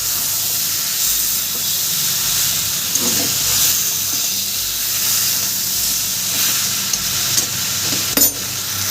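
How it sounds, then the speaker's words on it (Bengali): Fried potatoes sautéing with jackfruit curry in a pan, a steady close sizzle and hiss with occasional stirring scrapes throughout, no talking. "ভেজে রাখা আলু দিয়েও আমি একটু দু মিনিট কষিয়ে নেবো"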